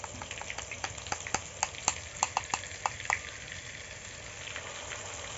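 Ginger-garlic paste frying with egg and potato in a pan, a steady sizzle punctuated by a quick run of sharp clacks and scrapes from stirring, then settling back to an even hiss.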